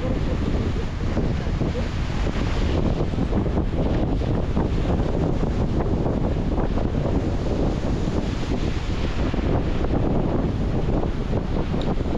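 Strong wind roars across a boat at sea amid heavy waves, a loud, constant rumbling buffet against the microphone with no breaks.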